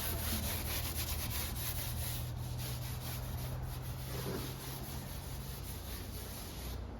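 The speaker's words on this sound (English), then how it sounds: "So basically we quite literally just scrub like all of this muck that doesn't come off on the hose" Muck is scrubbed off the feeders in a GEA 24/48 milking parlour with a steady, continuous rough brushing and rubbing that stays close and fairly loud throughout, with no talking.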